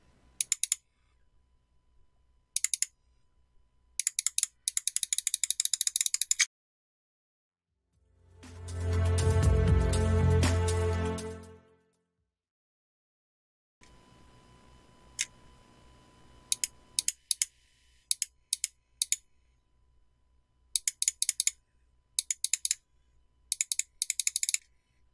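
Logitech G Pro X Superlight mouse switches clicking in quick bursts of sharp, close clicks, separated by silences, with a sustained buzzing hum in the middle and a faint tonal whine after it.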